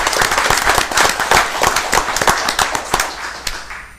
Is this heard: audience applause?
yes